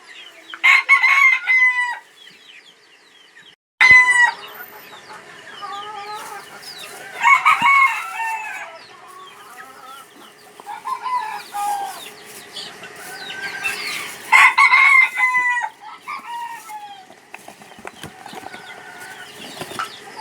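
Hens clucking and a rooster crowing repeatedly among a small flock of Kelso and Boston Kelso cross gamefowl, loud and close with overlapping calls and short pauses, no talking.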